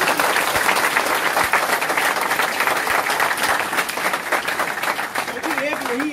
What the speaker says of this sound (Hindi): एक बारी उनके लिए जबरदस्त तालियां होनी चाहिए।